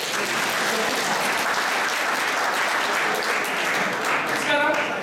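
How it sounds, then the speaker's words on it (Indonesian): A church congregation at a joint Christmas service applauds in a steady, dense wash of clapping that holds evenly throughout, with a voice briefly audible near the end. "Beri tepuk tangan dulu."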